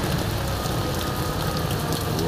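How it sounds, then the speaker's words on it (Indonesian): Heavy rain pouring steadily on a midday before New Year's Eve, a dense, loud, unbroken hiss of drops hitting surfaces close by, with no voices. "Hujan gede."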